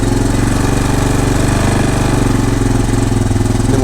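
A Honda 250EX ATV, cold and long unused with a weak battery, runs on choke just after starting, giving a loud, close, steady, rough idle throughout.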